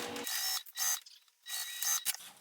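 A sewing machine backstitches a seam in short bursts of rapid whirring stitching, three or four close runs separated by brief pauses.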